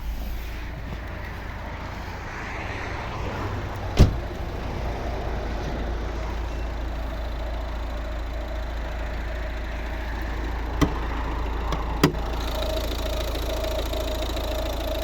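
A 1.6-litre Peugeot Citroën D2 diesel engine in a 2011 Volvo V50 idles steadily at close range, a constant low rumble with faint knocking, broken by a few sharp clicks.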